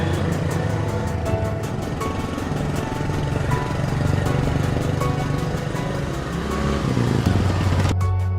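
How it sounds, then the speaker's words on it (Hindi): A scooter being ridden fast gives off a continuous buzzing motor drone with slight pitch shifts, steady and fairly close, heard alone without voices. "पॉटी बॉय शॉन स्कूटर बहुत तेज चला रहा है।"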